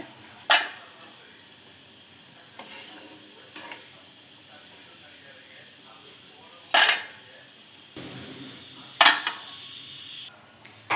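Homemade kurkure fries in hot oil while a ladle works the stuck pieces loose and turns them, with a few sharp metallic clinks and scrapes against the pan standing out over a soft hiss.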